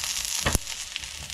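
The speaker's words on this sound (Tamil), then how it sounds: "இப்போ பார்த்தீங்களா, இது கொஞ்சம் நல்லா ஃப்ரை ஆகி கொண்டு வருது" Okra frying in coconut oil, a short burst of crackling sizzle with one sharp spit and a faint pop afterward, close and fairly quiet.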